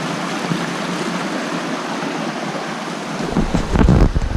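Steady broadband rushing of Deuel Creek Falls flowing over rocks, loud and continuous, swelling slightly stronger toward the end with no voices.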